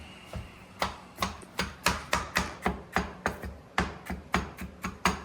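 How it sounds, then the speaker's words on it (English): A knife chops raw garlic cloves on a cutting board in a home kitchen, fast and close, about a dozen sharp, evenly spaced taps with nothing else heard. "Chopping a little bit of garlic."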